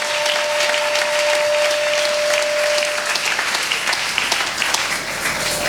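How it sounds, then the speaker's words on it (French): A church congregation bursts into loud, sustained applause, dense clapping from a large crowd filling the room evenly for several seconds. "Est-ce qu'on peut acclamer pour la gloire de Dieu?"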